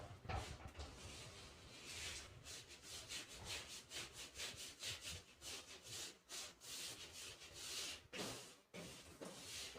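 Writing is rubbed off a classroom board with rapid back-and-forth strokes, a dense rhythmic scrubbing that pauses briefly a few times, close but quiet, with no voices.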